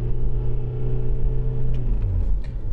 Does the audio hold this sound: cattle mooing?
no